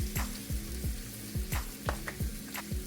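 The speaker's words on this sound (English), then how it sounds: "let that cook and saute in with my onions" Onions and flour sauteing in a pan for beef liver gravy, a soft steady sizzle with repeated scraping strokes of a utensil at a regular rhythm, close and without talk.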